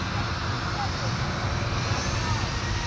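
A Boeing 737 roars past at Minneapolis–St. Paul airport, a steady loud broadband engine rush filling the whole stretch, with talk over it.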